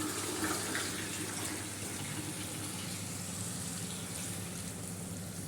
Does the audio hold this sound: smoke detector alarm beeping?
no